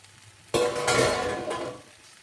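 Salt and pepper chicken is stirred as it fries in a pan: a sudden burst of sizzling and scraping near the microphone that swells, then fades over about two seconds, with no talking.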